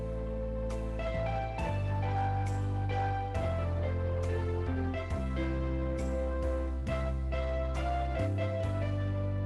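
Keyboard plays sustained chords of a song with a thick layered tone, piano with brass and strings on the upper part, changing every second or so, steady and fairly loud without voices.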